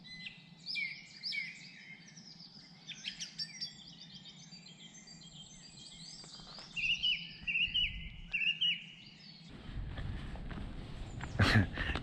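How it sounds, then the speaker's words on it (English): Early-morning birdsong of scattered chirps and short calls at a building site, faint and somewhat distant, with occasional rustling and footsteps and a louder shuffling burst toward the end. "I thought I'd just come out and listen to the birds chirping"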